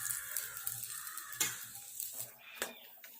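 A paratha cooking on a hot tawa gives a faint, soft sizzle with a few light clinks and scrapes of a utensil against the pan, close by but quiet.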